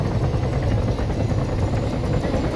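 A police helicopter's rotor in the video game Arma 3 chops steadily close by, a continuous pulsing drone with no voices.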